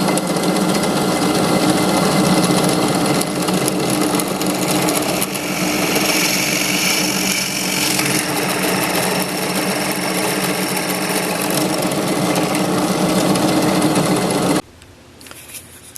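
A drill press with a 5/16 drill bit whirs and grinds continuously and loudly up close for about fifteen seconds, a steady dense mechanical roar that stops abruptly near the end.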